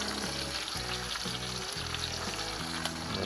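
A pork rib roast sizzles steadily in a cast iron skillet over a grill, a loud, continuous frying hiss with a faint background tone.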